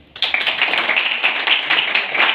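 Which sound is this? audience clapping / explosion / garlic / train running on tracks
audience clapping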